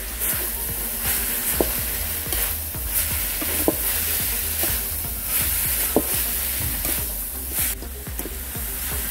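Samosa filling, seasoned with salt, chili powder and pepper, sizzles steadily in a pan with occasional sharp clicks of a spoon stirring against the metal; no talk over it.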